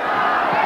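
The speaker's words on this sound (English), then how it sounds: "The crowd chanting early for Chavez." A large boxing arena crowd roars and chants for Chavez at a Julio Cesar Chavez versus Miguel Angel Gonzalez fight, a loud, dense, continuous wall of voices in a brief burst.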